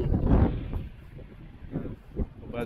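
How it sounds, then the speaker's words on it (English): Low rumbling wind gusts buffet the microphone on a cold beach, rising and falling in waves, with some faint speech mixed in. "It's cold and windy."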